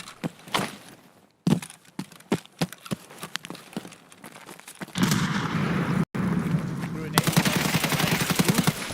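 Rapid gunfire from Escape from Tarkov, with sharp single shots and then dense automatic bursts that grow louder and closer, under a player's excited talk.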